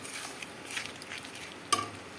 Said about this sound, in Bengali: স্টিম বাড়িয়ে খুন্তি দিয়ে ক্রমাগত নাড়তে হবে